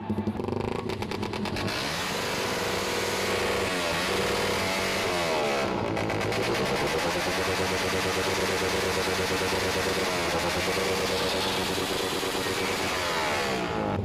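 Motorcycle engine with an aftermarket exhaust pipe revving repeatedly, loud and close, with rising and falling throttle blips over a rough, steady idle.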